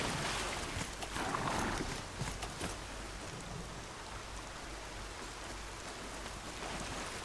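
Rain falling in the video game Horizon Zero Dawn, a steady hiss of downpour with denser patter early on that settles into even, continuous rainfall, with no voices.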